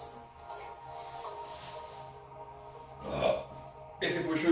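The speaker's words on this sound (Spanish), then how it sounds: "Ese fue yo eructando." A person burps twice, short throaty bursts standing out from a quiet room with soft rustling and low background hum.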